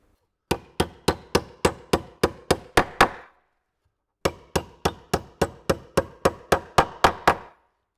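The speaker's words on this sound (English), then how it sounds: "By coming in a nail's amount from each edge, you're making sure the two nails aren't going to hit each other when you hammer them in." A hammer drives nails into the metal panels of a gabled beehive roof: about ten sharp, evenly spaced strikes, a short pause, then roughly eleven more in the same brisk rhythm, close and ringing.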